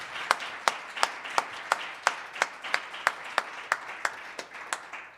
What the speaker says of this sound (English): So just a round of applause and a massive gratitude.